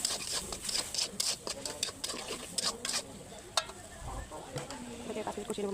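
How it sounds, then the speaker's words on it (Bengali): Spice masala of chilli, coriander, turmeric and roasted cumin powders being stirred and fried in a pan, with a steady scraping, rubbing stir over a soft sizzle, close and fairly quiet, sounding alone. "ভালো করে মশলাটা 5 মিনিট কষিয়ে নিব।"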